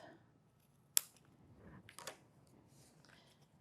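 Scissors trimming excess material while making a woven basket, one sharp close snip followed by a couple of quieter cuts and rustles in a quiet room.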